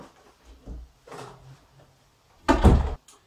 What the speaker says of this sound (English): just look at it while I close the door to the laundry room.